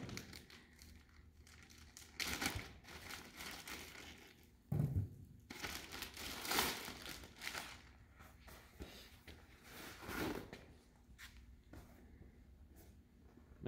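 Packaging crinkles and crunches in bursts as replacement window protection parts for a sandblast cabinet are unboxed, close and fairly quiet, with no talking.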